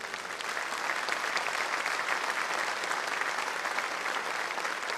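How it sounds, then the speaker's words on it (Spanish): A church congregation at a Spanish-language service gives a steady, even wash of applause that stays dense and sustained throughout, heard from a little distance with no talk over it. "Denle un aplauso al Señor si puede."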